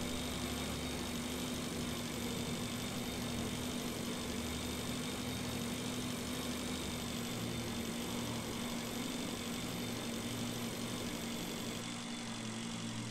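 Motorbike engine in the video game Breathedge, a steady droning hum with a constant low tone, running continuously and fairly loud throughout, easing slightly near the end.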